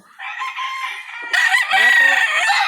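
A one-year-old Yellow Legged Hatch gamefowl rooster from Nam Game Farm lines crows close by in a backyard, a long strained call followed by a second, louder crow overlapping it.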